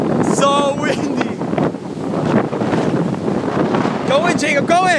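Strong wind buffets the microphone at a beach just before Hurricane Sandy, a continuous loud roar with surf mixed in, while people talk and shout nearby throughout.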